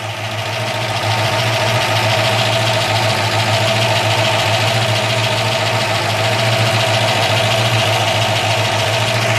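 A classic car's engine idles with the hood open, a loud steady mechanical chatter and hum with a faint knocking texture, rising at the start and then holding even throughout, no voices.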